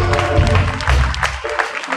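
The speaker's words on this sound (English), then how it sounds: "Shall we give them a round of applause?" An audience at a formal event honouring media professionals gives a short burst of applause, brief clapping mixed with some crowd noise and voices.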